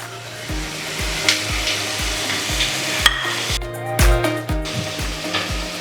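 Boiled egg being stirred into masala in a pan with a spoon, about a dozen regular metal scrapes and taps over a constant frying sizzle, close and loud with no talk.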